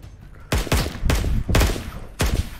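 Gunshots from a Roblox 1v1 dueling game, five sharp loud blasts spaced roughly half a second apart, each with a short ringing tail.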